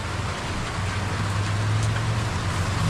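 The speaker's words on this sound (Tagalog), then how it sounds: "Yan, maulan na araw ngayong araw po ng Lunes." Steady rain falls on a rainy Monday, an even, continuous hiss of drops with a low rumble underneath, easing off after a heavier downpour, with no voices.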